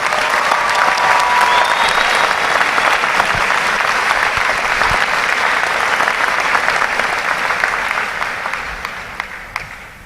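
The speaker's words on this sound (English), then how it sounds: "Let's give them a round of applause for their outstanding performance." A large audience applauds graduating navy recruits at a recruit training command ceremony, a loud sustained wash of clapping that holds steady for about ten seconds before tapering off at the end.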